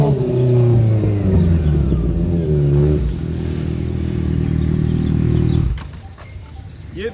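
A Kawasaki Ninja ZX-6R 600cc supersport motorcycle engine revs loudly and close up, rising and falling in pitch, then holds a steady high-rpm drone before cutting off sharply into a quieter idle near the end.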